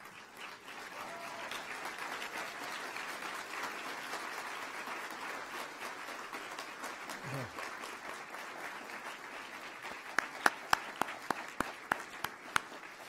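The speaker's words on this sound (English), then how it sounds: "give all your professors another hand of applause" Graduation crowd at a civil and environmental engineering ceremony gives the professors a sustained round of applause, ending in a few loud, isolated claps close to the microphone.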